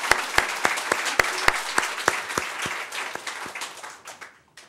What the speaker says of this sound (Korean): 우리 살아계신 하나님께 박수 한번 합시다.